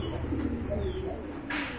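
Red checker pigeons coo softly and close by in a pigeon collection, giving a low murmuring coo with a brief rustle near the end. No one speaks.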